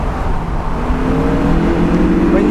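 A Honda S2000's high-revving naturally aspirated engine climbs steadily in pitch, loud and close, with a continuous rising harmonic drone and no talk.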